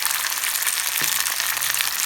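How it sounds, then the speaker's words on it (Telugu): Tamarind paste with asafoetida frying in hot oil, a steady bright sizzle that stays loud and close throughout, with a faint clink of a utensil partway through. "then you shall fry the tamarind paste"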